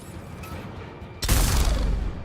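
Weapon fire in Mass Effect 3 Legendary Edition, a quiet rattling stretch followed by one loud booming blast that rolls on as a heavy rumble.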